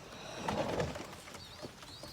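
Pigeons in a coop coo softly nearby, a short cluster of low calls over faint background noise with a few thin chirps toward the end.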